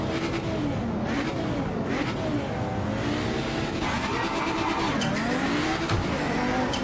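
Race car in the Project Motor Racing sim game, engine loud and constant with rising and falling revs through gear changes and tire squeal, a faint voice now and then underneath.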